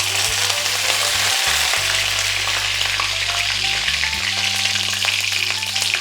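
Curry leaves frying in hot oil for a baby potato fry: a loud, continuous close-up sizzle and crackle with an electric hum underneath, no voices.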